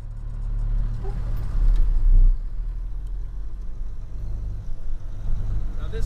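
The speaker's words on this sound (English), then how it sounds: "Now this truck drives nice." A low, rumbling old truck engine drones steadily from inside the moving truck, with a brief louder surge partway through.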